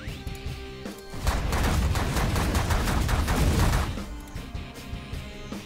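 Sustained rapid minigun fire in the video game The Last Federation, a dense roaring burst of shots lasting several seconds, loud and close, with game sounds before and after.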